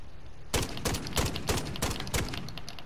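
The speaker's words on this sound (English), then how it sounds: "it's automatic, it's a sniper, you can like snipe around and automatically spam people." An automatic sniper rifle fired in a video game, six loud, evenly spaced heavy shots ringing out close after a quiet start, with no talking.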